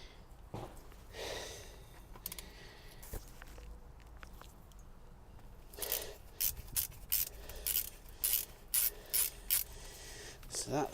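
Screwdriver working a radiator hose fitting on a 5th-generation Honda VFR800 motorcycle, faint scraping and rubbing, then a run of short, sharp, evenly spaced scratchy strokes near the end, close up with no talking.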